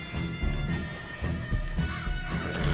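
A horse in Red Dead Redemption 2 moves with close, uneven hoof thuds and clip-clops, loud over a busy layer of background noise.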